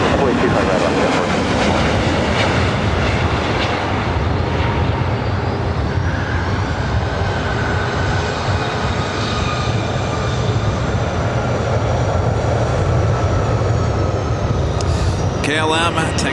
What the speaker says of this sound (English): KLM taking off there on the south side. It's flight 602 heading back to Amsterdam.